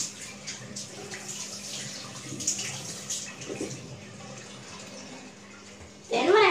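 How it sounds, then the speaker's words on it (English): Tap water running into a bathroom sink while someone washes their face: a soft, steady trickle with light splashing, then a louder splashing rush near the end. "I go to the sink and take wash my face"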